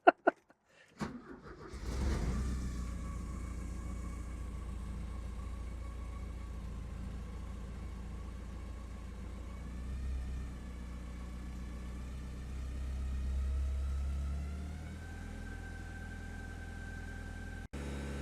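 Porsche 944 four-cylinder engine, previously abandoned and misfiring, cranks and catches after a sharp starter burst, then settles into a steady, smooth idle held up around 2000 RPM, loud and close with no talking.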